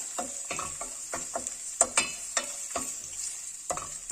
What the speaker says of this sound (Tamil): இதில் ஒரு எக்கு இதில் ஊற்றிக்கலாம் இதை நல்லா வதக்கலாம்